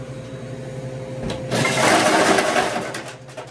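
Ice machine at a lodge in El Portal near Yosemite, running with a steady mechanical hum that swells into a louder rattling rush of ice dropping out, then fades slightly near the end.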